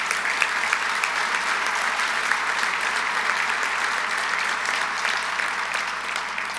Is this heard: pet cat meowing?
no